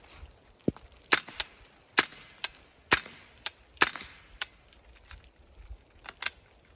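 An AR-15 with a CMMG .22LR conversion firing Winchester ammunition: sharp, fairly light single shots at an irregular pace, about a dozen cracks over several seconds, some louder and some quieter, with no talking.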